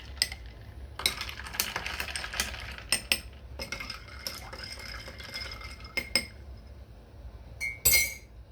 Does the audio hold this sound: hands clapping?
no